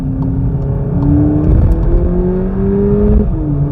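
A 2022 Volkswagen Polo GTI accelerates hard through a track lap, its engine note climbing steadily through a gear with a rising whine, loud and close from inside the car.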